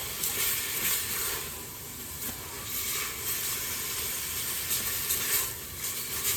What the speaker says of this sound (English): We're just going to cook the outside till it's good and white.